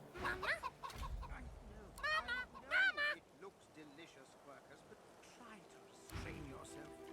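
A chicken clucking in the video game Divinity Original Sin II, a few loud bursts of squawking, honk-like clucks early on, then quieter background game ambience.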